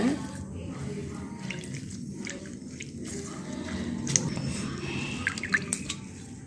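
Two or three black peppercorns swished and rinsed in water before going into a cold-remedy herbal decoction: soft sloshing with small drips and splashes, close and fairly quiet, with a faint murmur of a voice underneath.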